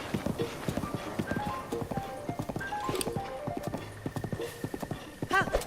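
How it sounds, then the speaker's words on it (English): A horse in the video game Breath of the Wild trots with quick, rhythmic clip-clopping hooves that carry on steadily beneath game music tones, and a short whinny comes near the end. "I'm very tempted to jump off my horse"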